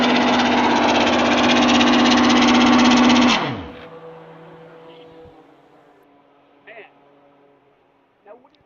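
A classic race car engine at Daytona International Speedway roars loud and close for about three seconds at high revs, then cuts off sharply and spins down, leaving quiet background noise with a couple of faint knocks.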